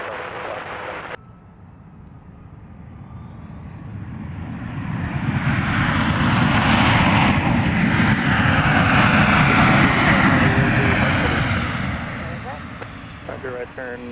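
A JSX jet arriving from the Atlanta area at Dallas Love Field roars in, its engine noise swelling to a loud broad rumble at mid-clip before fading, with radio chatter heard at the start and end.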